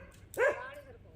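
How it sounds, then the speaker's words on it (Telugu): A village dog gives a single sharp bark at a newcomer, close by and short, then falls quiet against a low background hum. "ఈ కుక్క మన కోసమే అరుస్తుంది"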